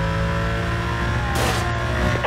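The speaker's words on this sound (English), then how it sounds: "Suspect vehicle is a silver Porsche." A silver Porsche in Need for Speed: Most Wanted roars at high revs with a steady, loud, tonal engine drone and a brief rushing whoosh as it speeds along.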